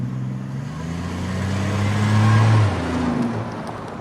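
A car pulls away and accelerates hard in an old radio drama, engine pitch climbing steadily and loudly, close up, with no talk over it.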